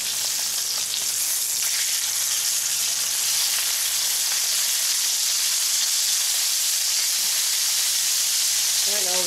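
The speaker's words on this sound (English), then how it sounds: "I'm going to sear these about 3 minutes on the side." Pork chops searing in a pan produce a loud, continuous hiss and crackle of hot fat, steady and close for the whole stretch with no break.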